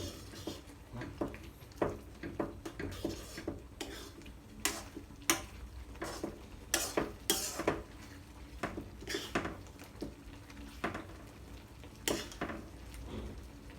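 A utensil stirs dissolved starch into rad na gravy in a pan, sending out repeated sharp clinks and taps against the metal over a low simmering hiss, close and irregular throughout.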